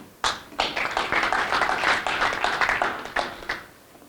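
A small audience breaks into scattered clapping at a conversation event. It starts with a sharp single clap, then builds into a moderate, uneven round of applause that carries on for several seconds before trailing off.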